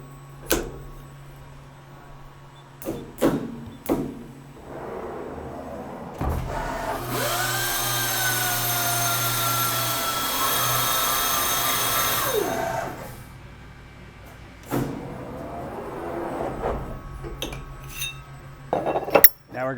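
Deburring machine processing small 1/4-inch steel sprocket parts, a loud grinding, rattling run of about six seconds in the middle, framed by scattered metallic clanks and knocks before and after, with no talk.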